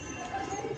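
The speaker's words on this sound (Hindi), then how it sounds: "ये हैं लड़ैया के कबूतर" Pigeons kept for racing cooing softly and continuously at close range, a low steady murmur of several birds with no talk over it.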